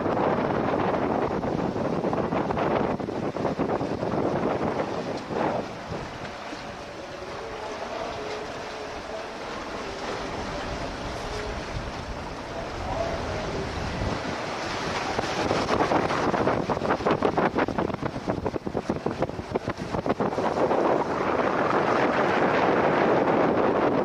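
Wind buffeting a microphone aboard a boat in Egypt, a steady broadband rush with louder gusts toward the end, mixed with water noise and no talking.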